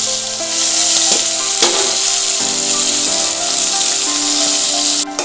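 Chopped vegetables tossed into hot oil with cumin seeds sizzle loudly and continuously up close, with a faint stirring scrape and a sharp clatter near the end.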